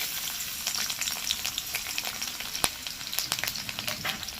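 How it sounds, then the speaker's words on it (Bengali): Chopped garlic and green chillies fry in hot oil, a dense crackling sizzle that runs throughout with scattered pops and one sharp clink of a utensil, close and steady, no one speaking. "এবার এটাকে ভেজে নেব রসুনটা একটু কালার আসলে তারপরে"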